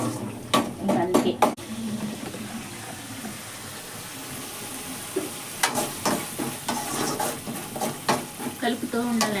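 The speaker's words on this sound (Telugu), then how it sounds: "కలుపుతూ ఉండాలండి" Chicken sherva with cashews stirred and fried in a pan, bursts of quick scraping strokes over a steady sizzle, with a quiet gap midway before the stirring resumes in rhythmic clusters; a voice speaks briefly.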